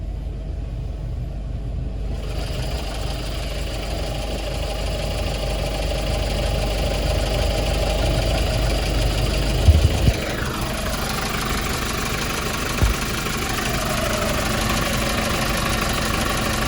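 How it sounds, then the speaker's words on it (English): A 2019 Hyundai Porter 2 truck engine idles warm and steady, a continuous low mechanical rumble held close, with a couple of faint knocks and a brief shift in tone partway through. "Engine is a little hot now."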